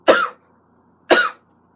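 Two separate coughs from a young woman who is feeling under the weather, each a sharp burst about a second apart, close and fairly loud with silence between them.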